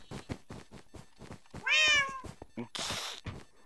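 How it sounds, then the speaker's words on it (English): A single clear, fairly loud cat meow rises and falls midway through, set against rhythmic thumping beats and a burst of hissy noise afterward. "That cat."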